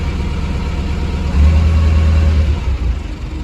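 A Massey Ferguson 390 tractor's diesel engine catches quickly and settles into a steady running drone, loud and close, with a low throb that swells just after starting and holds for a couple of seconds with no talk.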